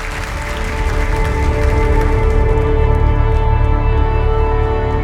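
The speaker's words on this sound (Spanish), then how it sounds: "Démosle un aplauso al Señor." A church congregation at a Palm Sunday Spanish-language service breaks into sustained applause, a dense steady wash of clapping that swells slightly and holds at a loud level, with a low musical drone underneath.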